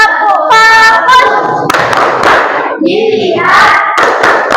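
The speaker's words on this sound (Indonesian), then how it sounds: "kita tepuk fokus terlebih dahulu, biar pembelajaran kita fokus dari awal sampai akhir" A classroom of students claps the rhythmic Indonesian 'tepuk fokus' pattern, sharp claps in quick groups with voices chanting along, close and loud.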